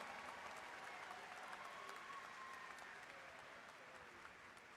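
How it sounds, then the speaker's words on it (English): Steady, even applause from a large commencement crowd honouring master's graduates at the SIUC spring ceremony, a faint continuous wash of many hands clapping with no talk over it. "Have another round of applause for our master's students there."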